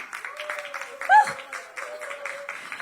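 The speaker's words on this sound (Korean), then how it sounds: "조남영 감독님을 박수로 모십니다" Audience applause welcomes director Jo Nam-young on stage at the press conference for the TVING series 'Legend of the Army Cook', a steady patter of clapping running under an announcer's voice.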